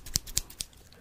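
Three crisp metal scissor snips at a steady pace, close and fairly quiet, each a sharp click with a short swish, with no voices.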